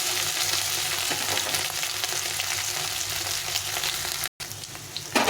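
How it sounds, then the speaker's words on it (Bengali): Potatoes and ivy gourd frying in an oil-filled pan, a loud continuous close sizzle with stirring scrapes throughout, briefly cut off near the end before resuming, no talking. "আলুটাকে একটু ভালো করে ভেজে নিতে হবে"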